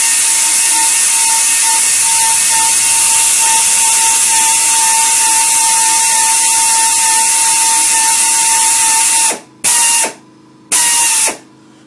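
A pneumatic industrial tapper runs a tap through 1-inch-thick steel plate, giving a steady loud whine with a sharp tonal hum, then cutting out in three short stop-start bursts near the end.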